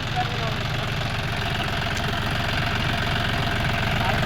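A four-cylinder 4x4 diesel tractor fitted with a rotavator runs nearby with a loud, steady, rapid chugging knock and a low vibrating drone that holds constant throughout.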